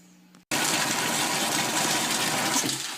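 Slightly warm water gushes steadily from a tap while aquarium rocks are rinsed, a loud, continuous rush that starts abruptly after a brief quiet moment.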